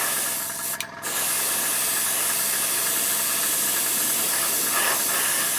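An airbrush or spray can gives a loud, continuous close hiss while paint goes onto a 1/35 T-34/85 tank model kit, with a brief dip in the spray near the start.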